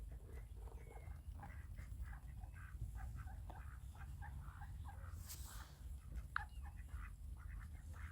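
Ducks quack faintly in a marsh at night, scattered distant calls drifting over a low rumbling background with no voices.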